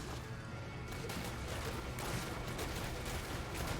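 Demon Hunter firing shots in Diablo Immortal: a dense, noisy clatter of impacts and crashes over constant game din, with a sharp burst near the start and steady combat noise after.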